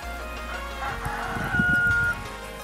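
Backyard chickens in a snowy storm, a rooster crowing with one drawn-out call near the middle, set over low clucking and a steady outdoor rumble.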